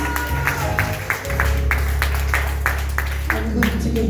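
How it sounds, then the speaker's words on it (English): Church congregation clapping hands in a steady, evenly spaced rhythm, one clap roughly every third of a second, over a loud sustained low organ or bass drone and background voices. "Come on, church of God, clap your hands."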